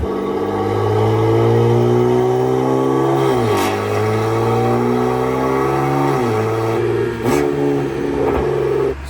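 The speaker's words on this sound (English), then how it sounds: "Apparently this exhaust is supposed to make the car sound very close to a GT3 Porsche" A BMW M3 F80 with its S55 engine and a new aftermarket exhaust revs hard close by, a loud, raspy, sustained roar that rises and dips through several throttle changes with no speech.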